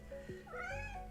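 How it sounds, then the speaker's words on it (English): A house cat lets out a short, close meow with a rising and falling pitch, quiet and alone against a still room. "That's my cat."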